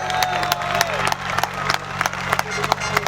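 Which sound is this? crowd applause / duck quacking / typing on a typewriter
crowd applause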